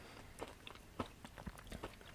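Someone nearby bites and chews vodka-filled chocolate with a crunchy biscuit inside, giving faint, irregular crunchy chews and bites in quiet surroundings.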